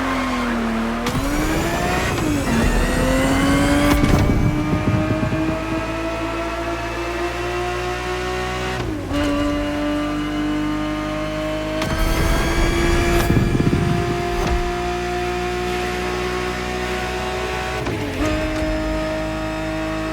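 Ferrari 365 GTB4 racing in The Crew Motorfest, its engine revving hard and climbing through gears with sharp shift breaks and tire squeal, loud and continuous throughout.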